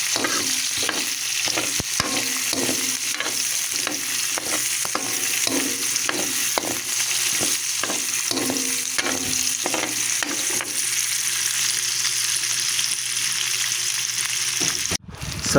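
Onion sautéing in a pan with garlic for a pork and broccoli dish crackles steadily, with rhythmic spatula scrapes for about ten seconds before the stirring stops and the sizzle goes on alone.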